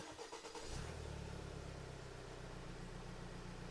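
A truck engine turns over briefly and catches, then holds a low, steady idle rumble close by, with no voices present.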